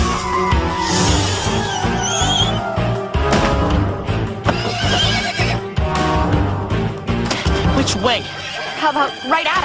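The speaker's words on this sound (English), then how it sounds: "A miniature seeing eye horse." Loud horse whinnying rises over a busy mix of voices and clatter, with excited speech throughout and the neigh cutting through near the end.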